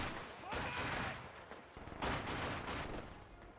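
MG42 machine gun firing in the video game Company of Heroes 2, dense bursts of rapid gunfire and booming impacts over battle noise, with a voice talking over the action.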